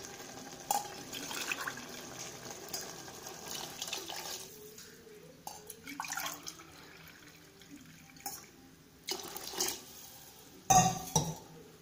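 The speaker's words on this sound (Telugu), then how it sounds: "ఇప్పుడు మనం 2 గ్లాస్ ఆఫ్ వాటర్ పోయాలి" Two glasses of water pour steadily into a cooking pot of tomato rice, with a few metallic clinks and splashes scattered through the running stream.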